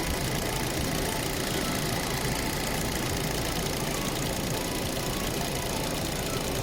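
A 2025 Hyundai Elantra's 2-litre inline-4 petrol engine running steadily at idle, a constant close mechanical hum and vibration with no change in pitch and no voices.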